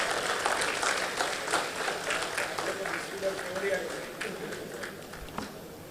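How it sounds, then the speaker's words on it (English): An audience at a plenary session applauds the dignitaries on the dais, a moderate spread of clapping that continues steadily and gently thins toward the end. "Please join me with applause to extend our heartfelt thanks to all the dignitaries on the dais."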